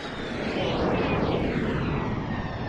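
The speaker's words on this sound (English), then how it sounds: "Let's go ahead and fly up the jet here, baby. Is that loud?" Jet aircraft flyover sound effect played loudly on a livestream, a broad, steady roar with a sweeping whoosh that swells and holds for a few seconds without any talking.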